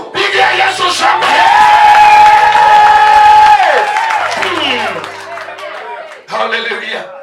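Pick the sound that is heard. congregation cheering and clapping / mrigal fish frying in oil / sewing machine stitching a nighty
congregation cheering and clapping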